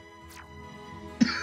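A sick streamer gives a single short cough near the end, close and sharp after a quiet stretch with a faint breath.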